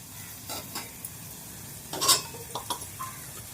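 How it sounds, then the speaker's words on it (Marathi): Washed dried bombil fish stir-fries in oil with garam masala, a soft, fairly quiet sizzle with scattered spatula scrapes and one brighter metallic clink midway. "नंतर स्वच्छ धुवून घेतलेले बोंबील त्यामध्ये घालून"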